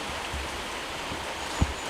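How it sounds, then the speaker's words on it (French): Rain falls steadily as a dense, even hiss outdoors during a magnet-fishing and metal-detecting outing, with one brief close tap near the end. "Il pleut, bergère,"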